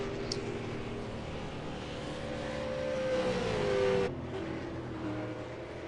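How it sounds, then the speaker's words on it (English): V8 Supercars race cars in a racing sim at Road Atlanta drone along toward pit road, a steady engine hum with a gently rising tone that cuts off abruptly near the end. "We have several cars headed down to pit road."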